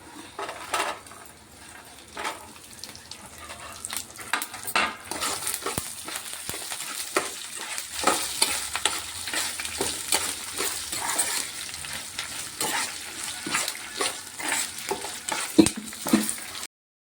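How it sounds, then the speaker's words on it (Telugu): Coriander seeds frying in oil for a curry leaf chutney, stirred with a utensil: a soft crackling sizzle under frequent metallic scrapes and clinks against the pan, close and continuous, with no speech. "ఆయిల్లో మంచిగా ఫ్రై అయిపోవాలి ధనియాలు వేస్తున్నాను"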